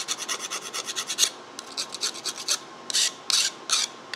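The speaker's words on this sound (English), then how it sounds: "Just take the burrs off here a little bit, just to make that glide in and out a bit better." A hand file deburrs the edge of a freshly cut metal car part in short rasping strokes, a quick run of even strokes followed by slower, separate pushes, close and clear with no talk.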